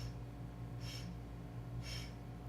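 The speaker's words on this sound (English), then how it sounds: "Little sniffs, little sips of air" Short nasal sniffing inhales from yoga breathwork, two quick airy bursts about a second apart over a steady low hum, close and fairly soft.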